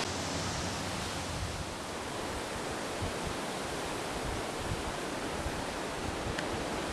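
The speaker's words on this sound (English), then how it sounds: "The wind's all of a sudden picked up here." Wind blowing outside a house at night, a loud continuous broadband rush with low rumbling buffets against the microphone, steady throughout and without talking.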